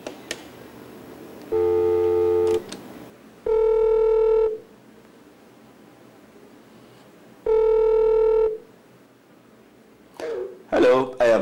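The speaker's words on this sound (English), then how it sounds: "see what happens when I make a call" A telephone call goes out: two-tone ringback pulses sound three times in a steady rhythm with long gaps, clear and loud, followed by a voice answering at the end.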